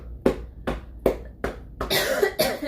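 Someone demonstrates chest cupping, a respiratory therapy technique, with a hollow cupped hand: four sharp, evenly spaced hollow claps ring out alone and close, followed by a brief burst of rough, breathy coughing.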